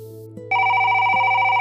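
A telephone rings loudly and alone, a steady electronic bell tone that begins after a faint hum and carries on without a break.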